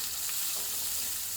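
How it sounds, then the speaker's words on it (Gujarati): Green chillies and chopped curry leaves crackle and sizzle in hot tempering oil, a steady close-up frying hiss with no talking. "લીલા મરચાં પણ વઘાર સાથે સરસથી સાંતળી લેશું. મરચાં સરસ કકડી જાય"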